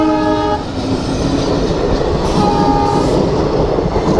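Radhikapur–Katihar Express passenger train rumbling loudly past a railway level crossing at Raiganj, with steady clattering wheels and two blasts of its horn, one at the start and another midway.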